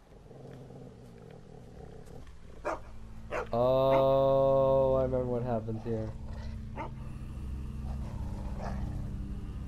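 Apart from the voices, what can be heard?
dog barking in The Walking Dead video game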